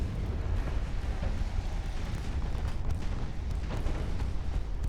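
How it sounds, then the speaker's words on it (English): A ship's ammunition detonation rolls through a naval battle in Ultimate Admiral: Dreadnoughts, a continuous loud, rumbling blast-heavy roar with scattered cracks across the whole stretch, no voices over it. "Oh, ammo detonation"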